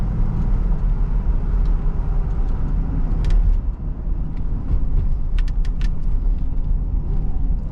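A 1976 Mercedes-Benz 450SL drives with a steady engine rumble and road noise, a brief dip in engine note during a downshift, and faint interior clicks, with no talking.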